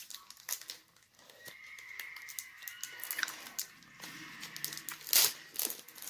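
Crinkling and tearing of a plastic trading card pack wrapper being cut open up close, with soft rustles and a sharper rip near the end, no voices.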